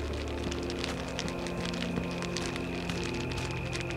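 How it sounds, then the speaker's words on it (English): Fire crackles steadily in the video game Elden: Path of the Forgotten, a dense continuous patter of small pops that stays even throughout, layered over low sustained background tones. "Oh, that's fire crackling."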